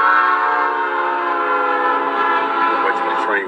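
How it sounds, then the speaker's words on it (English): A train horn blares in a long, steady, loud blast as the train rolls past nearby. "Wait till the train pass."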